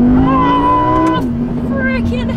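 An Audi R8 supercar accelerates hard with a loud, close engine roar that climbs in pitch, drops briefly at a gear change, then pulls on steadily from inside the cabin.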